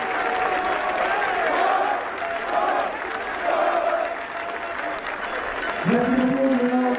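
Crowd applause at a U18 rugby final in Belgium greets the team captain, a broad wash of clapping running under an announcer's amplified voice over a public address system, with speech continuing through most of the clip.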